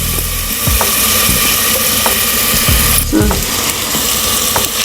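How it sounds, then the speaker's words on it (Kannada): Ground ginger, garlic and coconut paste fries loudly in a pot, a dense close sizzle broken by several sharp scraping stirs of a spoon against the pan, with no talking. "ಇತ್ತ ನೆತ್ತ ಪಜ್ಜಿ ವಾಸನ ಪೊಯ್ ನೆತ್ತ ಫ್ರೈ ಮಲ್ಪುಲೆ"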